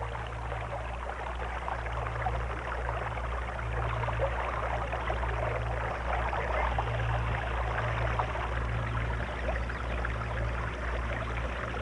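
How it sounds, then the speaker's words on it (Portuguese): Water running through a ditch beside a broken beaver dam, a steady close rushing and trickling flow with a low constant hum beneath, unbroken and without voices. "Em cima da represa rompida, a água corre através de uma vala perto da outra ponta do cano"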